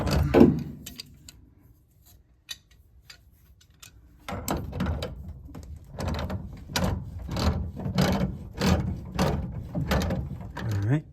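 Wrench ratcheting and metal parts clicking while a gas valve goes onto a Carrier Infinity gas furnace, with a burst of clanks, a quiet stretch, then a rapid run of ratchet clicks up close.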